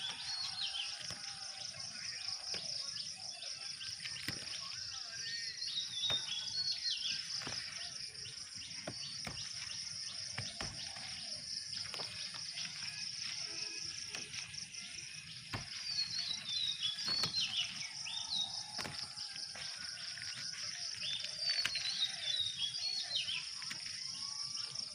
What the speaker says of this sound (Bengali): সকালবেলা কি সুন্দর পাখির ডাক শোনা যাচ্ছে